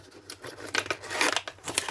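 Wrapping on a craft supply package is cut open with scissors: several quick, loud, close snipping strokes follow one another in rapid succession over about two seconds, with no talking.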